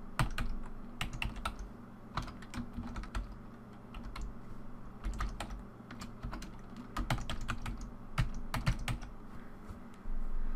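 Keys clatter on a computer keyboard as a network path is typed in a data-catalog dialog, with bursts of quick, uneven clicks and short pauses throughout, close and clear.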